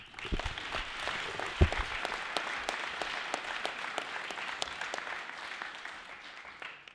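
A hall audience at a French debating competition applauds steadily, a dense, even clapping that holds at moderate level before tapering at the end.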